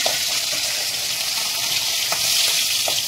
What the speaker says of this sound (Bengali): পুরো মাছগুলো একদম ভাজা হয়ে গেছে।